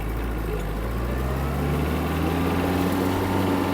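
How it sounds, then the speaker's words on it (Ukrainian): Kubota X-20 Japanese mini tractor engine revving in third gear, a continuous near drone whose low tone climbs steadily as it gains speed. "Трактор дуже гарно відгукується на педаль газу, миттєво розганяється до своєї максимальної швидкості."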